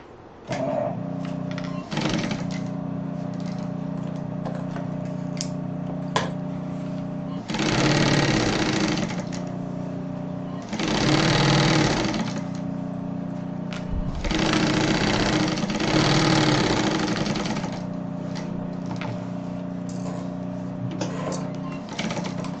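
A sewing machine stitches a crossbody bag in several separate bursts of a few seconds each, loud and close, with a steady background hum between runs and a person talking over it.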